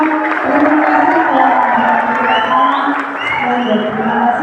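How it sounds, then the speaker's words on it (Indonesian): A graduation crowd at an SMK vocational high school ceremony in Manokwari, West Papua, cheers and claps in a dense, continuous roar, with voices and whoops mixed through the noise. "Tepuk tangan untuk kita semua"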